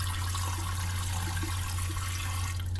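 Running water pours steadily as yellowtail fish eggs are rinsed under a tap, a constant broad hiss with a low hum beneath it and no pauses.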